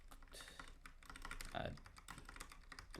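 Keys clatter on a computer keyboard as code is typed for a Godot game, a quick irregular run of light clicks, close and fairly quiet.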